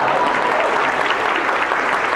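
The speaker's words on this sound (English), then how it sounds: "So I think she deserves applause for that." Audience applause at a charity giving summit plenary, a steady dense clapping from a large crowd that holds at an even level for about two seconds with no voices over it.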